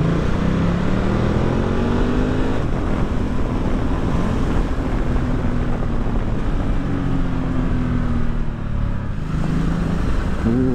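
A steady engine drone from a 2020 Ducati Multistrada 1260 S Grand Tour motorcycle runs throughout while riding, with a rising and falling pitch as it shifts through gears, alongside constant rushing wind noise.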